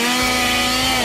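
Ash's prop chainsaw from Army of Darkness, carried by a cosplayer at Fan Expo Canada comic con, gives a steady droning whir with a strong constant hum, loud and close for about a second amid convention hall noise.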